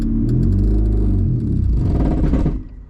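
Honda Civic wagon engine with a seized transmission revved in neutral, a loud close rumbling rev that rises and falls twice before bogging down and dying, with no talk over it.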